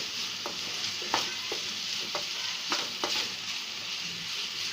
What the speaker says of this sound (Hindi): इसे थोड़ा सा हम स्टर कर लेंगे अच्छे से और इसे मीडियम फ्लेम पे ही रखेंगे।